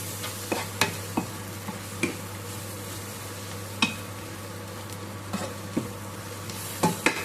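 Masala for goat head curry, with mutton curry powder and turmeric, fries in a pan under a steady low sizzle, broken by scattered sharp scraping and tapping strokes of a stirring spoon.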